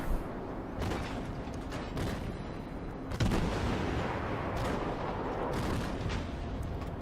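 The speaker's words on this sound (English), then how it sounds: "That Myogi is going to fire." Warship guns firing in a World of Warships naval battle, with a Russian destroyer in the fight: a steady rumbling battle din broken by a few deep booming salvos, the heaviest one at mid-clip.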